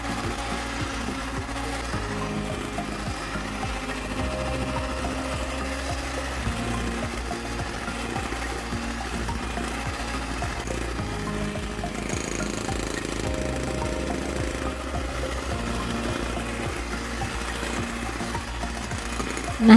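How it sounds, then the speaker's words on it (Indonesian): An electric mixer runs at its lowest speed beating steamed sponge cake batter, a continuous close whirring drone with a faint rhythmic knock that stays steady and unbroken throughout. "nyalakan kembali mixernya dan kocok adonannya dengan menggunakan speed yang paling rendah"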